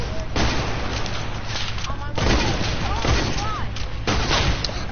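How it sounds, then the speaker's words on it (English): Sniper gunfire in a Fortnite match cracks through constant game noise and voice chat, a few sharp shots spread across the stretch, with people talking over them. "I'm getting sniped at"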